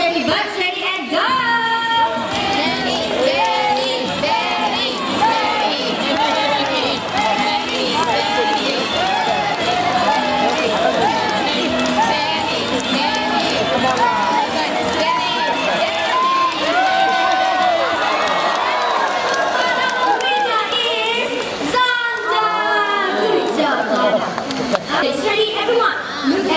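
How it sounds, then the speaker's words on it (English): Supporters at a pigeon race in Australia cheer their birds toward fruit on a table, a dense, continuous crowd roar of overlapping shouts, whistles and excited voices that stays loud throughout, briefly dipping near the end. "Now, supporters, cheer for your birds, alright?"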